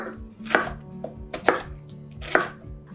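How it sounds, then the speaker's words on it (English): Pineapple being cut into rough chunks on a board: three distinct, close knife chops spaced about a second apart, with quieter handling sounds between them. "I'll peel and cut it into rough chunks."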